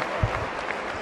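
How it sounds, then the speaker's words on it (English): A crowd at a boxing bout cheers and claps for the home team Turkey, a steady wash of applause across the whole short stretch with no clear speech over it. "And there's the crowd supporting the home team here"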